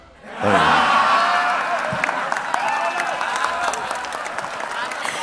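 An audience at a Kadin dialogue breaks into loud applause for Indonesian presidential candidate number 2, Prabowo Subianto, the clapping swelling suddenly and then holding as dense, continuous applause with a few cheers.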